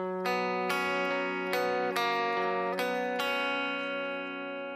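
An electric guitar plays the bridge pattern of a song, with clean, ringing chords struck about every half second in a steady rhythm, alone and close.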